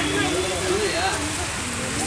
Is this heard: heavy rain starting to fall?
yes